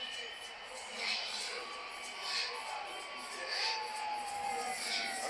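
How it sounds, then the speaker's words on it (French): Arena crowd at UFC 246 roars for Conor McGregor's entrance, a broad sustained cheer with swelling whoops and shouts rising every second or so, distant and diffuse. "Il vient d'entrer sous les acclamations du public."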